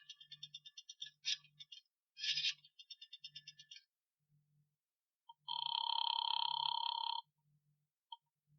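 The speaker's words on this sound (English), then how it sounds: "dropped a nickel in the slot, and dialed" A nickel drops into a drugstore payphone slot in a 1948 radio crime drama, followed by a quick run of bright dialing clicks and tones, then a long steady ringing tone, with no voices.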